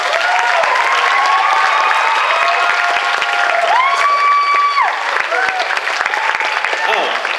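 An audience applauds a cosplayer at the RahCon 2015 cosplay competition, a dense, continuous wash of clapping that stays loud and even throughout, with faint tonal sounds in the background.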